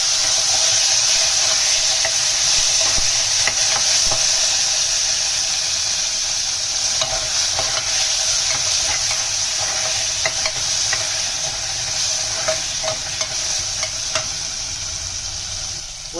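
Potatoes fry in a pan with chopped tomato and green chilli, a steady close sizzle with scattered scraping stirs throughout, loud and continuous, no voices.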